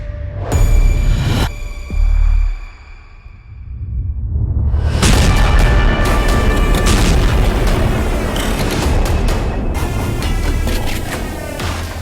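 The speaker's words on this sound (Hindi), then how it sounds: "अचानक जोरदार धमाके होते हैं।" Loud explosions strike Doha, Qatar: a sharp blast and a second thud, a brief lull, then a huge roaring boom that rumbles on with rattling debris and a lingering low throb.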